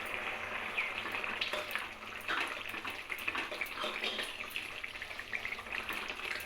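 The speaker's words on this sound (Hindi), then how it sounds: "देखिए साग में कैसे बुलबुले उठ रहे हैं।" Mustard greens saag cooking on a high flame bubble and sputter in a continuous wet simmer of small pops and hiss, close and steady, with no talking.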